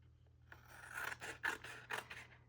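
Brown paper from a mailer being trimmed for a junk journal, a run of short rasping cuts and scrapes repeating close by over a steady low hum.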